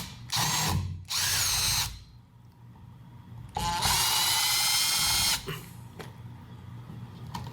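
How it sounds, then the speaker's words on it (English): A power drill whirs in several bursts while unscrewing the bolts that hold an electrical outlet in its box, two short runs then a longer one, close and loud with quiet pauses between. "You're going to unscrew these two bolts that hold the plug into the box."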